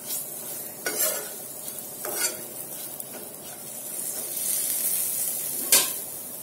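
Green chillies frying in masala, with a steady sizzle broken by several sharp scrapes and taps of a utensil stirring the pan.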